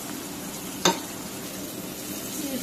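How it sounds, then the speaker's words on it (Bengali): Onion frying in a pan for chicken curry, a soft continuous sizzle with one sharp clink of a utensil against the pan partway through. "পেঁয়াজটা এখন একটু ভেজে নিব।"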